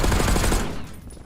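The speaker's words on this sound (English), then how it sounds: "Shots." Gunfire in Call of Duty Black Ops 6, a short rapid burst of automatic shots in quick succession, loud and close, cutting off after about half a second into fading tail.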